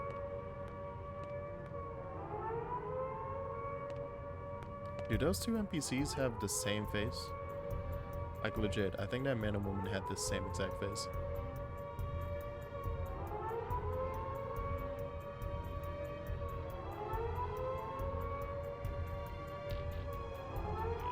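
A civil-defense-style attack siren wails over NLA in Xenoblade Chronicles X, rising and falling in slow repeating cycles across the whole stretch while a person talks over it.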